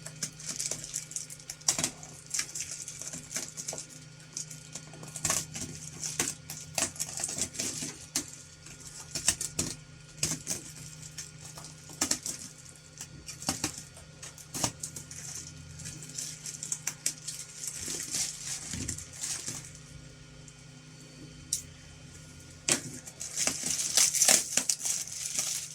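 A Klaxon SO4 package being cut and torn open, with irregular crinkling, scraping and snapping of cardboard and plastic in close, busy bursts that continue for some time.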